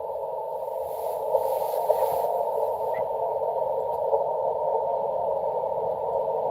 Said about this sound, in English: I hear a station low in the noise.